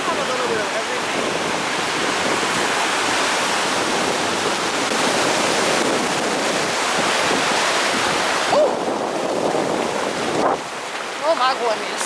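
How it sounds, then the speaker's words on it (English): Surf and waves on a beach in Costa Rica roar steadily and close, with wind buffeting the microphone and brief voices toward the end. "We made it to the beach."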